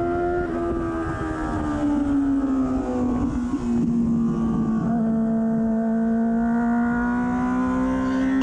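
A sport bike's engine holds high RPM on the Gingerman race track, a loud, sustained buzzing drone with shifting pitch throughout and no talking.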